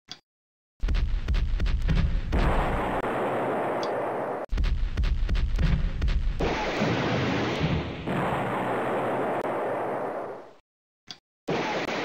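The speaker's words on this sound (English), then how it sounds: "What the hell is this? It's a mortar." Mortar fire in a video game: heavy booming blasts with long rumbling tails, several loud bursts separated by short silences, with faint talk under them.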